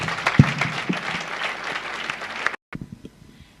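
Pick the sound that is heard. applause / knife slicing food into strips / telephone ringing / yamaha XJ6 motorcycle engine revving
applause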